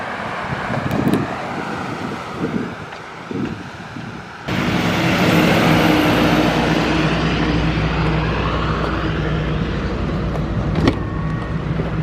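An SUV drives past on a road, its rising engine and tyre noise arriving suddenly and staying loud and close as it passes, with wind buffeting the microphone.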